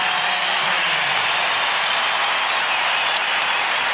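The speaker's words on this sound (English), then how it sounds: "Get a round of applause." A large crowd at a college basketball game applauds loudly and steadily, a dense wash of clapping that holds for several seconds without letting up.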